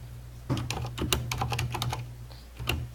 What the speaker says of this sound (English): still hearing typing and others